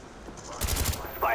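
Enemy automatic gunfire in Call of Duty Black Ops, a quick burst of rapid shots at mid distance, fairly loud over faint game ambience.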